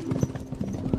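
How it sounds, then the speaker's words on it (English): Hooves of a horse pulling a chariot clip-clop in a steady, quick rhythm, close and clear, a brief sound effect with a faint tonal hum underneath. "how you can control that horse-drawn chariot I keep talking about"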